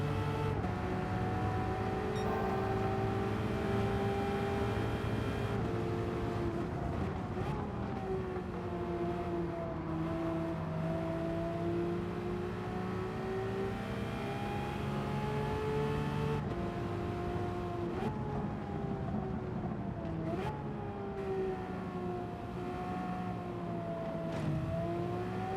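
Race car engines, including a Porsche, in a racing video game. They make a continuous loud drone that rises and falls in pitch as the cars accelerate and brake through corners, with no talking.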